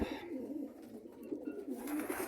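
Pigeons coo softly and continuously nearby in a breeding loft, low throaty burbling calls overlapping in a steady murmur with no talking.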